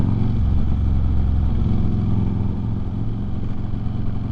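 Steady, loud motorcycle engine drone while riding to work, a continuous low rumble with slight rise and fall and no pauses.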